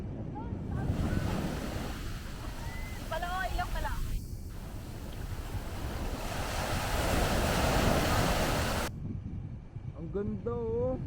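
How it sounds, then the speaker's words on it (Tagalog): Strong ocean waves wash and roar continuously at a Zambales beach, mixed with heavy wind buffeting the microphone, while voices talk over the surf at points. "Ang lakas ng alon, guys."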